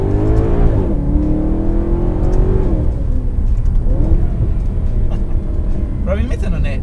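A Maserati GranTurismo Sport with a naturally aspirated V8 drives along a valley road, its loud engine rising and falling in pitch under continuous wind and road roar.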